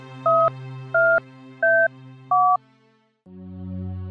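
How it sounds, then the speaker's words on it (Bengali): In a Bengali horror cartoon, a phone dials with four evenly spaced electronic keypad beeps, then a steady ringback tone begins after a brief pause. "দেখি বিপুলকে একবার ফোন করি"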